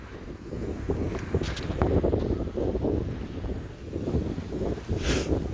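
Steady wind gusting across a sailboat under sail and heeling near Angel Island in San Francisco Bay, a broad rushing roar that swells and eases over the water with no talk.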